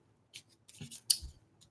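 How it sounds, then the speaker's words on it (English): A big tape runner lays adhesive on a handmade card, giving faint, close, brief scratchy clicks and a short ripping glide in a quiet room. "Yes, it is a big tape runner."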